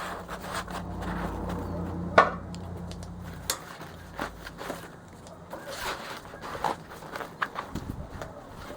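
A zipper is pulled shut on a Maxpedition 8 x 10 inch pistol case, short rasping pulls mixed with scattered handling knocks and rustles, fairly close.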